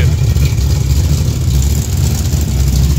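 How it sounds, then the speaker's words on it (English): A 355 four-bolt small-block Chevy with a Crane 480/480 cam and SFI flywheel, idling loud and close with a deep, lumpy, steady rumble and no voices. "This is a really nice engine."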